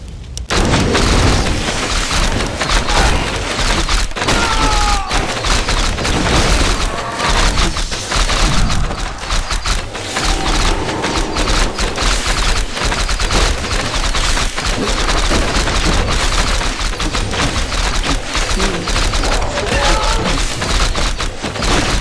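Warcraft III Reforged battle sounds during a siege: a constant, loud clatter of gunfire, booms and clashing hits layered over game music, with no let-up across the whole stretch.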